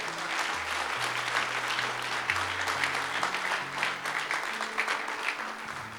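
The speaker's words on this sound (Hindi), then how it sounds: "जोरदार तालियां।" A church congregation applauding loudly during a Pentecost sermon, a dense run of clapping that lasts throughout, with low keyboard or organ notes playing underneath.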